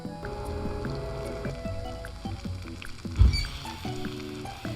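Meat sizzles in a pan inside the game Project Zomboid, a moderate frying crackle with scattered soft squishy clicks and one brief louder thump partway through.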